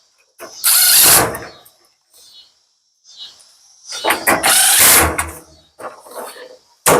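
Screws are driven back into a Samsung dryer with a power driver, two or three loud whirring bursts separated by quiet gaps, close by.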